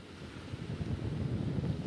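Strong super typhoon wind in Baler, Aurora, Philippines roars and buffets a microphone, with a low, steady rumble that surges in gusts and builds louder over a couple of seconds.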